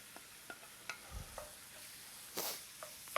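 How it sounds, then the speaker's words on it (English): Butternut squash sautéing in a hot pan, a soft steady sizzle with scattered scraping stirs and a few sharper clicks, fairly quiet and with no talk. "from here, I'm gonna add all of my butternut squash"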